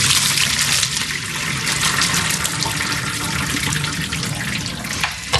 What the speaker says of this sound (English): I am ready to strain this.